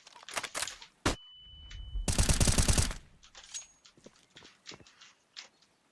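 Counter-Strike on the Inferno map: a thrown flashbang grenade pops sharply, followed by about a second of dense, ringing burst noise, with game clicks, footsteps and scattered gunfire-like cracks around it and no talk.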